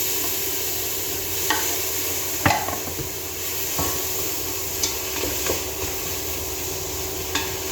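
Orange and lemon peel, tomato, a cinnamon stick and peppercorns fry in a pan, a steady sizzle broken by scattered sharp utensil scrapes and knocks against the pan.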